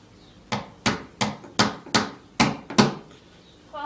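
Hammer striking a nail into a homemade wooden ramp for a remote control car, eight sharp, evenly spaced close blows in quick succession, loud and clear with no talking.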